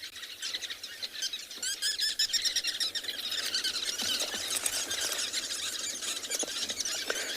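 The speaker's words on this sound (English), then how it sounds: "there's a lot of birds making a lot of noise." Many birds call noisily together at sunset in the Tswalu reserve, a dense, continuous chorus of shrill squeals and chirps at close range.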